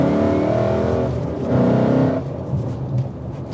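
A car with a freshly installed manual clutch is driven in freeway traffic: a loud, close engine drone and road roar that swells slightly as it accelerates, with no one talking.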